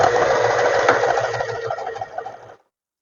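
A sewing machine running a seam across fabric along a marked line on a pair of trousers, a fast, even rattling whir close up that runs for about two and a half seconds and then stops abruptly.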